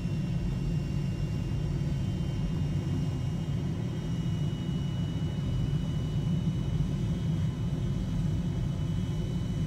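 Steady low rumble of an F-35 Lightning II jet engine as the throttle comes up in Microsoft Flight Simulator, a continuous droning roar at constant loudness with no voices.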